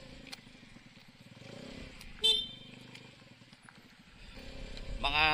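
A motorcycle, recently repaired, idles and revs nearby, rising toward the end, with a brief horn-like toot partway through and someone talking over it.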